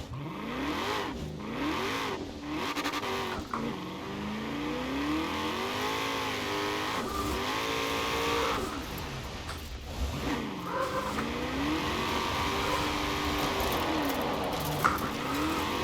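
In Forza Horizon 4 a Ford F150 Prerunner truck engine revs up and down repeatedly as the throttle rises and drops, with tire noise, bumps and thuds underneath, loud and continuous.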